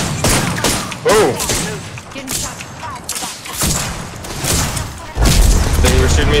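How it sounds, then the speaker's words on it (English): Video game gunfire, with bursts of rapid shots and heavier booms and thuds going off in clusters, loud and close, while people talk excitedly over the action. "They were shooting me through smoke"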